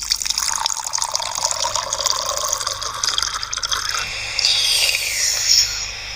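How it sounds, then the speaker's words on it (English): A cartoon character with hiccups drinks water, heard as running, trickling liquid like a tap filling a glass that continues steadily and brightens near the end, with no talking. "I really need a drink of water."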